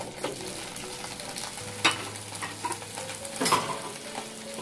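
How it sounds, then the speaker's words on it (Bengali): Half-boiled potatoes and cauliflower fry together in a pan with a soft, steady sizzle, broken by a couple of louder scraping stirs near the start and toward the end, no talking. "হাফ সিদ্ধ করা যে আলু এবং ফুলকপি আছে, সেগুলো একটু ভেজে নেব।"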